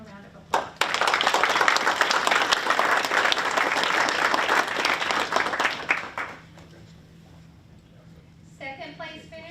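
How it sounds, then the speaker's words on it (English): Audience applause at a school board meeting for a student award, a loud burst of clapping lasting several seconds before dying out, followed by a speaker talking. "So let's give him a round of applause."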